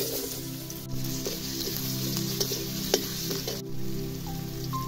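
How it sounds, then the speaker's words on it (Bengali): Potatoes fry in oil in a wok with a steady, dense sizzle, and a few clinks and scrapes of a spatula break through. "কড়াই আরো কিছুটা তেল দিয়ে আলুগুলো তেলে ছাড়বে।"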